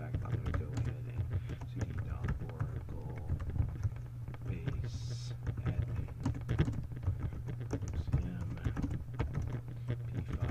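Keys clatter on a computer keyboard in a steady run of close, quick taps while commands are entered on an Oracle database server, with a constant low hum underneath.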